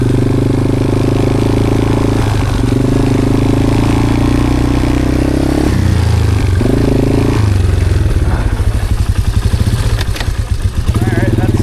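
4x4 ATV engine revving steadily and shifting up through the gears, the pitch dropping and climbing at each change, close and loud with a rattly clatter toward the end.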